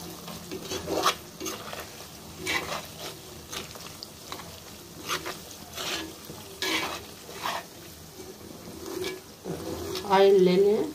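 Chicken pieces for chicken pickle fry in oil with curry leaves, a continuous sizzle broken by repeated scraping stirs of a spoon in the pan, with brief talk over it.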